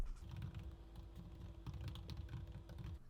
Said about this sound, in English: but I'm just going to type that in